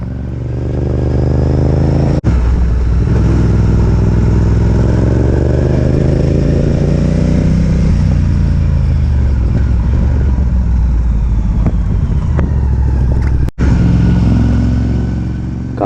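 A motorcycle on a touring ride through southern Sumatra near Liwa, Lampung, gives a loud, close engine drone whose pitch rises and falls with gear changes and throttle, with wind rush and occasional clatter.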